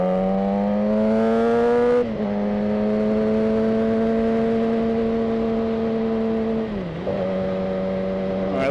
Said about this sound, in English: so you guys can judge what the wind noise sounds like, what the bike sounds like